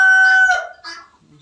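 A rooster on a farm garden crows loudly and close, one strong drawn-out call that tapers off, followed by a few soft clucks.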